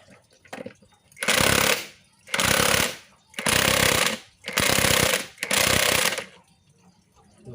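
Five loud, sustained bursts from a cordless impact wrench, each lasting about a second with short gaps, working a front shock absorber bolt on an Etios Valco car, close and alone.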